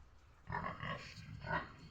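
Low snuffling grunts from pigs nearby, two short bursts of grunting, fairly quiet with a faint background hum.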